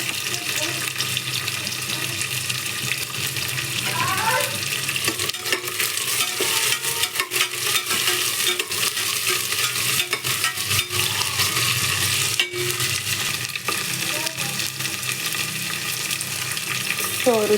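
Carrots and beans frying in a pan while being stirred, a continuous sizzle with scraping stir strokes, fairly quiet and close.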